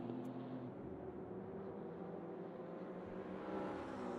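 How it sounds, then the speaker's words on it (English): GT3 race cars at full throttle at Road America in a racing game, a steady low engine drone that holds without letting up, fairly faint and distant. "it just sounds like they're on full throttle"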